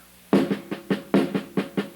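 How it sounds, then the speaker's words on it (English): Drum-set 16th notes, with every first of four hit louder: a steady run of close, crisp strokes where each group opens on a stronger accent, played alone with no talking. "I'll accent the first note of 4 here"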